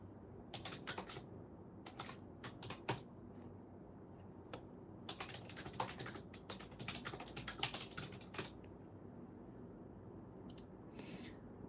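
Messages are tapped out on a computer keyboard during a relaxed home art stream, with scattered bursts of soft clicking keys over a low, steady room hum, faint and somewhat distant.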